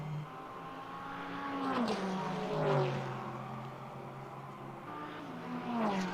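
A Ferrari GT3 race car in a racing video game passes by at the Red Bull Ring, its engine note sweeping downward in a sharp Doppler pass, with other engines whining and shifting pitch around it, fairly loud and without talk.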